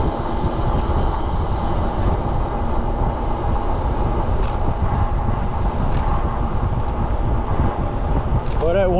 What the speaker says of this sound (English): wind is blowing because of that front and stuff.